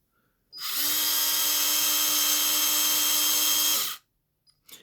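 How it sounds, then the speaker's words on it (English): An electric screwdriver drives screws into a humbucker guitar pickup, a close, steady high motor whir that starts abruptly, runs for about three and a half seconds, then cuts off, followed by a couple of faint clicks. "I use this screwdriver to get it down"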